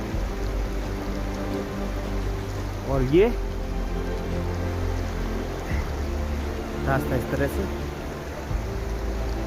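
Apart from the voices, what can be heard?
rain falling on mountain trek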